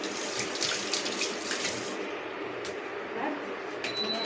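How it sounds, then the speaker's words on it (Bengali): Kitchen tap water runs steadily into a sink as raw chicken is rinsed, a continuous broadband splash that thins out partway through, with occasional light clinks and a person talking over it. "ভালো করে চিকেনটা একটু ধুয়ে নিই"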